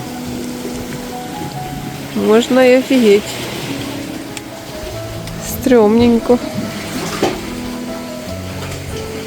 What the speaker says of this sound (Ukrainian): Тут така тріщина. І вода так бемкає.